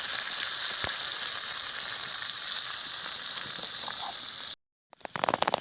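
Crab frying in a pan with turmeric and chili powder, a loud, steady sizzle that runs close and continuous before breaking off briefly, then returning with crackling bursts.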